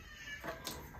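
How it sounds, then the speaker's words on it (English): A cat gives a single short meow, faint and somewhat distant against a quiet background hiss. "It's a cat!"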